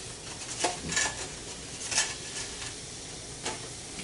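Bacon strips sizzle softly in a frying pan with a low, steady crackle, punctuated by a few brief scraping and clinking knocks of a utensil against the pan.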